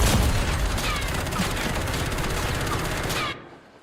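A rapid, loud burst of gunfire rattles off in a continuous stream of close shots for about three seconds, then cuts off sharply into near silence.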